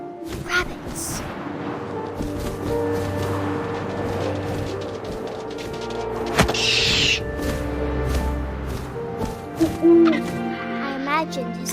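An owl hoots in the video game What Remains of Edith Finch, with wind and ambient game sounds beneath it and a narrator's voice running over much of the scene.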